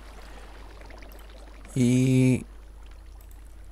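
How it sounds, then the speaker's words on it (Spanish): Brief gushing splash of water flowing in Minecraft, a loud burst lasting under a second amid quiet background, with a short voice fragment at its start. "Esto simplemente es para crear agua infinita también por aquí."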